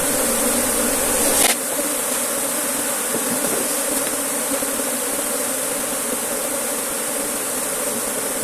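Honeybees at an opened hive give a dense, continuous buzzing drone, steady and close throughout with one brief louder burst early on.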